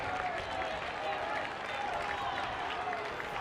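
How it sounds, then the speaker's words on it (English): Fans down the first baseline at a high school baseball game clap, the claps blending into a broad crowd wash at low level, heard from a distance across the ballpark. "Some rhythmic clapping from the Fairfield Ward fans down the first baseline"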